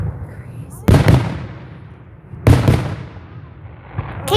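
Fireworks burst in two loud booming volleys with crackling tails, separated by a quieter lull, outdoors at a display.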